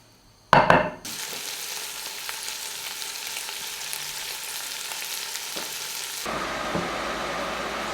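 Crushed garlic cloves and stripped thyme leaves drop into hot rendered bacon fat for beef bourguignon, bursting into a loud sizzle that settles into a steady, close crackling fry, rising again near the end.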